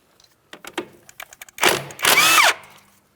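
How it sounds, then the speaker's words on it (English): A power tool on an 18mm tie rod mounting nut of a 2007-2014 Ford Edge gives short clicks and taps, then two loud whirring bursts, close and alone without talk. "we're going to remove our mounting nut. We're using an 18mm for our tie rod mounting nut."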